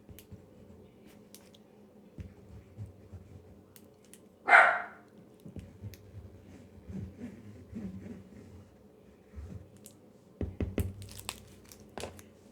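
A puppy gives one sharp, upset bark or yelp partway through, loud and close, against quiet rustling and handling noises from craft work at a table.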